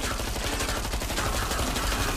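Rapid automatic gunfire from the video game Killing Floor 2, loud and continuous with dense overlapping shots across the whole stretch.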